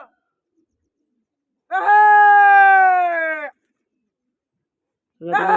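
A bird calls at a pigeon flying competition: one drawn-out, strongly tonal call of nearly two seconds, then a second call beginning at the very end, with silence around them.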